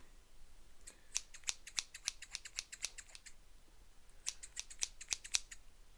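Scissors snip hair in a haircut roleplay, with quick, crisp cuts arriving in two dense bursts, close and quiet against a hushed background with no talking.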